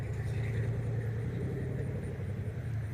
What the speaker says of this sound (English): all the cars going by